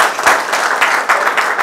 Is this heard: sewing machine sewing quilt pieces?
no